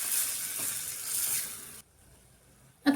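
Spiced yogurt masala added to onions frying in a pan, giving a bright sizzling hiss that stops abruptly partway through, followed by near silence and a brief clatter.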